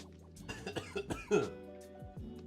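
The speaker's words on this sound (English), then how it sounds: "That cough did not feel good." A single harsh cough breaks through soft, close voice sounds, with a little throat noise around it.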